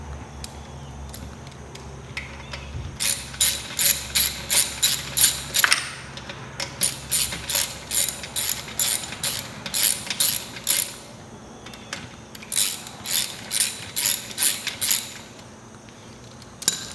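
A ratchet wrench loosening a part while a new FMF exhaust pipe is fitted to a 2021 Yamaha YZ125 motorcycle, with bursts of rapid, crisp clicking in several runs separated by short pauses, close and loud.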